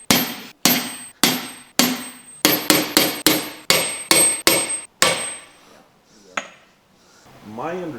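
An old railroad hammer striking during a Mopar 413 stroker engine build, about a dozen sharp metallic blows in a steady rhythm, close and loud, ending with faint talk.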